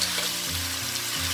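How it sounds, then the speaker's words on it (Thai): Undulated surf clams stir-frying in a hot pan with a loud, continuous close sizzle and a low humming tone beneath, brief and without talk. "ใส่หอยลายของเราลงไปเลยค่ะ"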